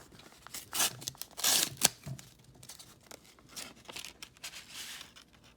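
A paper mail envelope is torn open close by in a few quick ripping bursts, mixed with rustling and crinkling of paper between them.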